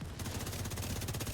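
Rapid automatic gunfire from The Division 2, a dense run of evenly spaced shots, loud and close, with no talking.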